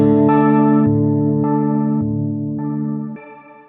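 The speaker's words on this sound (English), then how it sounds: "it's modulating the pitch of the reverb tail in quite extreme ways here to give us essentially this synth-like kind of sound" Strymon Nightsky reverb pedal with its step sequencer shifting the pitch of a synth-like reverb tail, stepping through six sustained tonal chords in a steady rhythm, loud and alone before fading near the end.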